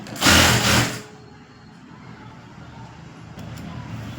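A sewing machine stitches piping onto fabric in one loud, close run of just under a second, then stops, leaving a faint background hum.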